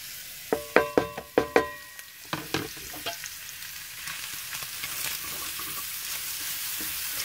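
Green pepper, onion, mushroom, garlic and red pepper hit a hot pan with a run of sharp clattering knocks, then settle into a steady, fairly quiet sizzle with a few scraping stirs.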